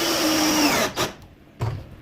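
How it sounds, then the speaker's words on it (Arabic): A Dongcheng power drill whirs steadily for close to a second while driving a screw into wood during assembly of a storage bed lift mechanism, then cuts out, followed by two short bursts of noise. "الحاجات الجميله برضو الدريل دونج شونج"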